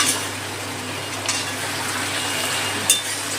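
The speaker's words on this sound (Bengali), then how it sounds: "দু তিনবার ঢাকা দিয়ে সবজিটা ভেজে নেবো, তাহলে সবজিটা তাড়াতাড়ি হয়ে যাবে।" Vegetables fry in a pan with a soft, even crackle and a faint low hum, with a couple of light utensil knocks near the end and no one talking.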